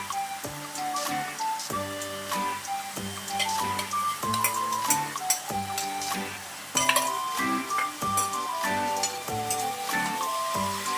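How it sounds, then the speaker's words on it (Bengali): Mutton cooking with papaya, tomato and beaten yogurt sizzles steadily in a pan over high heat while a utensil stirs it, with clinks and scrapes at an irregular rhythm and no talking. "এরকমভাবে আমি কষাতে থাকবো, আঁচটা বাড়ানোই থাকবে।"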